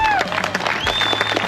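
Audience applause breaks out at a gathering where a man named Drew is asked to stand, dense clapping sustained throughout with whistle-like tones and crowd noise mixed in.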